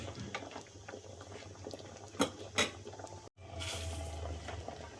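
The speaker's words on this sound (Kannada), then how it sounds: "ಇಲ್ಲಿ ಸಾಂಬಾರು ಕುದೀತಾ ಇದೆ." Egg sambar bubbling in a pot on the stove, a steady soft simmering hiss and patter with a few brief clinks of utensils against the pot.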